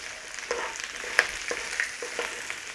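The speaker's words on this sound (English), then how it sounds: "So a little low sizzle on there." Onion and garlic sizzle gently at low heat in a pan, a soft steady hiss broken by a few brief stirring clicks and crackles, with no talking.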